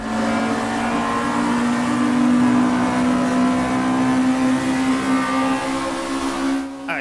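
Volkswagen Scirocco Group 2 race car in the Raceroom racing game, its engine holding a loud, steady high-pitched drone that swells slightly mid-run before a brief shift or cut at the end.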